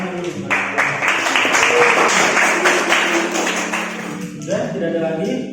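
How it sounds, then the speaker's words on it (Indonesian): Students in a classroom lesson clap in a brief burst of applause, mixed with tapping and voices talking over it, before the clapping dies away. "Tepuk tangan dulu."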